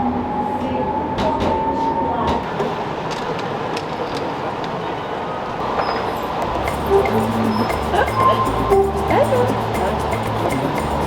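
Porto metro train rolling past at a station, with a steady rumble, rising mechanical whine and rail noise growing louder toward the end; people talk faintly in the background.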